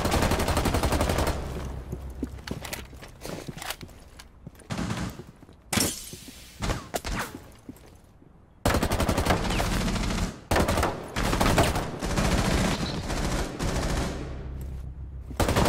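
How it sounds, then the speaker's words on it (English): Loud, sustained video-game gunfire rips through a wall in rapid automatic bursts and single heavy shots, broken by brief pauses and sharp breaking impacts, close and dominant with no talk. "Let's shoot through this wall."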